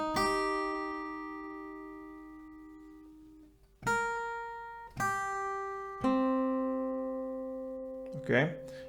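Acoustic guitar picking the intro melody of a song as single plucked notes without strumming, each ringing and decaying clearly, a long sustained opening note followed by a few spaced plucks, close and alone.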